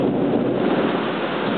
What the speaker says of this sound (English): I haven't seen a storm like this in years.